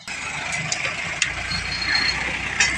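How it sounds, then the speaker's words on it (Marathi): A steady mid-pitched tractor engine idles nearby on a road, a continuous low rumble with faint mechanical ticks and clicks on top. "आणि मित्रांनो हा ट्रॅक्टर इथं आलेला आहे"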